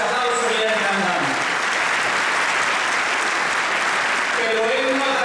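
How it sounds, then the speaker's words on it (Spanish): A ceremony audience applauds the Chilean Minister of National Assets at an agreement signing, dense continuous clapping filling the room, with a voice briefly heard at the start and end. "don Felipe Ward, para quien pido ese aplauso"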